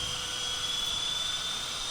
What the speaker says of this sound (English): you can hear the bleed air rush into the starter, and it spins the N2 core